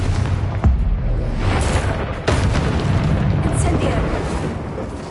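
A Confringo fire-blast spell in Hogwarts Legacy, heard as two sharp booming bursts over a continuous rumbling, noisy game backdrop.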